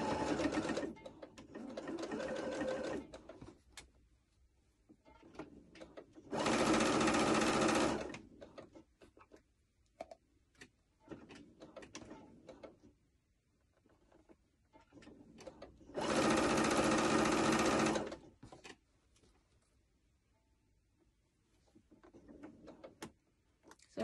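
A sewing machine fitted with a walking foot stitches stretch fabric in two long, steady, loud runs, with quieter handling of the fabric and brief shorter stitching between them.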